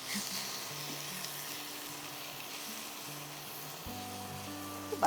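Mutton with ginger paste being cooked in a pan, a soft low sizzle with faint scraping from stirring.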